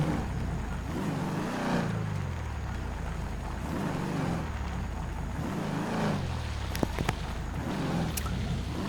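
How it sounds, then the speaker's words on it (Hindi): A car drives away, its engine note rising and falling in repeated sweeps as it pulls off, fairly close and steady, with no talk over it. "अभी ना गाड़ी वगैरह को निकालते हैं, ठीक है, फटाफट से यहाँ से।"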